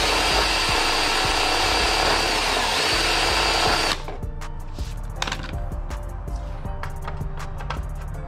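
A power drill bores holes for mounting a carbon fiber splitter on a Dodge Charger Scat Pack Widebody, running loud and steady for about four seconds before stopping, followed by quieter clicks and handling noises.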